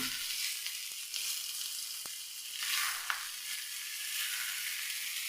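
Chicken pieces for Al Faham mandi fry in a pan with a steady, close, loud sizzle and crackle, plus a few faint clinks, and no voices.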